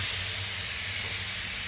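Steam hisses steadily from a pressure cooker as its lid is forced open during pav bhaji cooking, a continuous broadband rush with a low rumble beneath and no talking.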